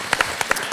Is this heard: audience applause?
yes